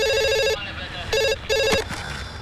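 A telephone rings in short repeated bursts, a bright electronic trill that stops and starts, heard amid a film scene with some background voice and movement.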